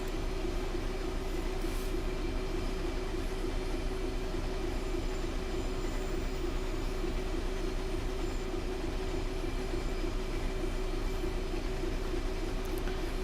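A train coasts without power along a main line in a simulator game, giving a steady, unbroken rumble of rolling wheels with a constant low hum and no engine surges.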